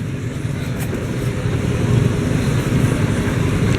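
Steady, dense traffic rumble of motorcycles and tricycles in San Carlos City, Philippines, engines droning close by, a continuous low motor hum that swells slightly partway through.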